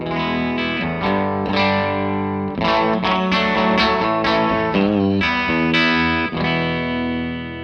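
Distorted electric guitar chords played through a Victory V40 Duchess tube amp on its 7-watt low power setting, crunchy and continuous with rhythmic strums, fairly loud and close.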